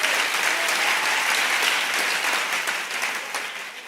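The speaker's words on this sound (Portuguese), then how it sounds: "Se é para Jesus, pode aplaudir." A church audience breaks into strong, dense applause that holds steady and loud, then begins to ease slightly toward the end.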